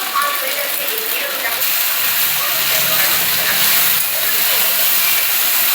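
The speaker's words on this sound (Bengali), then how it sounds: "একটু ভাজা ভাজা হয়ে যাওয়ার পর এর মধ্যে আমি ভেন্ডিগুলোকে ছেড়ে দেবো।" Okra dropped into hot oil with turmeric in a home kitchen, a loud steady hiss and crackle of sizzling that continues throughout, near and with no voice over it.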